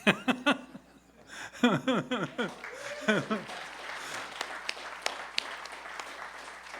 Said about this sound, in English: how loud the crowds are clapping for you